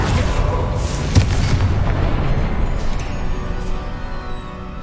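A Confringo fire spell explodes in the Hogwarts Legacy video game, one deep boom with a sharp burst followed by a rumbling tail that slowly fades.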